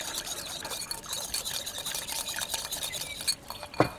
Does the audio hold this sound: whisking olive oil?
yes